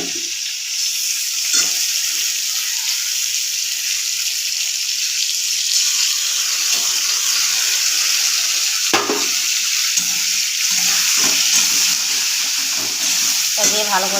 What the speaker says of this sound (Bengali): ভালো করে একটু কষিয়ে নিতে হবে